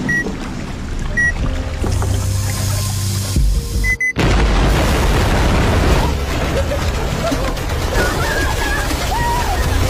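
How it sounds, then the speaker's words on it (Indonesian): A sudden loud dynamite blast destroying a shipwreck in the film Anaconda cuts through steady rumbling, followed by a long noisy wash of debris and sloshing water. "nahkoda pun memutuskan untuk meledakkan kerongsokan tersebut menggunakan dinamit."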